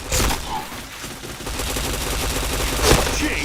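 Rapid video-game gunfire in Point Blank, bursts of loud close shots running continuously with a sharp boom near the end, under background game sounds.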